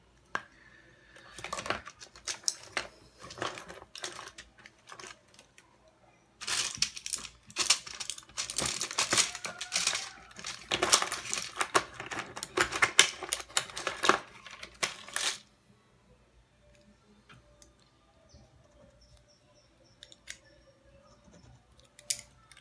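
Close, clattering rummaging through a pile of pens on a desk, bursts of plastic clicks and knocks coming in irregular clusters, then trailing off into near silence.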